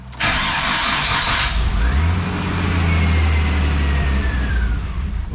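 A Nissan Stagea's RB25DET engine cranks with a hissing whir, fires and settles into a loud, close idle, then rises in pitch as it revs after a fuel rail, injector and regulator upgrade.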